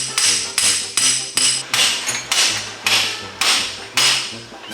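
A hammer drives a pickle fork to break loose the ball joints on a 1934 Ford coupe's front suspension, with eight or nine loud, ringing metallic blows at a steady rhythm, close by and alone.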